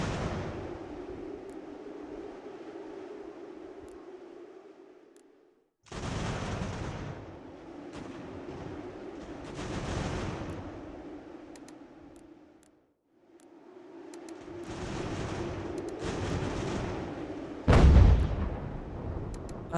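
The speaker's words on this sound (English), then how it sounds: "Field guns." Field guns fire in the battle game Ultimate General: American Revolution, rumbling rolling volleys in several long bursts separated by quieter stretches, with a sharp nearby boom near the end, no talk.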